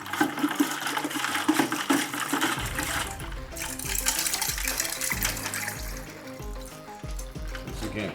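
Water churns and sloshes in a bucket holding a fair amount of unmelted ice, loud and close, with a rushing, flush-like swirl turning into deep rhythmic gulping surges.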